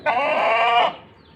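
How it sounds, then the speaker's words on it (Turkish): A hen gives a single loud, drawn-out warning cry close by in a farmyard coop where chicks hatched a day earlier, the call ending abruptly and leaving quiet. "Tavuğun sesi"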